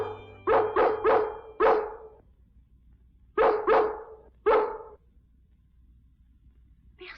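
Several dogs bark in a park at night in an animated film, loud nearby yaps in two bursts, a quick run of four barks then three more after a pause, with quiet between.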